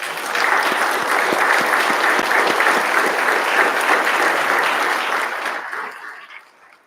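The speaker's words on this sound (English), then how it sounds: "give them one more round of applause." Audience applause at an Eagle Scout court of honor for Troop 201/6201, steady dense clapping from a seated crowd that holds for about six seconds and then fades out.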